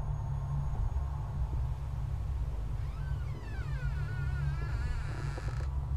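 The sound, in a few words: door creaking open in a psychological horror video game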